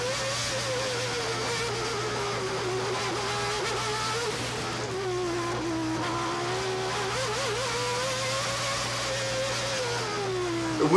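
Ayrton Senna's Formula 1 car roars onboard at the 1990 Monaco Grand Prix at full throttle: a loud, continuous, close engine howl that rises and falls in pitch through gear changes, with no talking.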